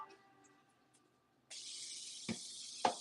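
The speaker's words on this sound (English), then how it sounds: "Spray the top of that." A steady broadband hiss of cooking spray starts partway through and continues over cheeseburger wontons, with a couple of short clicks or taps over it after a quiet opening.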